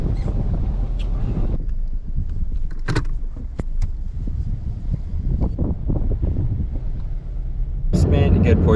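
Steady, loud wind buffeting roars through a car driven with the windows down, a constant broadband rush with a brief muffled voice near the end.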